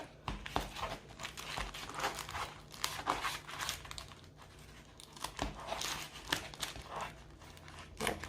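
A mail envelope is cut open by hand close up, producing crinkling paper rustles and scissor crunches in irregular bursts, with no talking.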